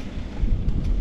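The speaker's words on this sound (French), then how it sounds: "parce que là il y a quand même un peu de vent et ça caille un peu franchement" Outdoors on a cold day, gusty wind buffets the microphone, producing a loud, rumbling low roar that swells and churns for about a second with no voices.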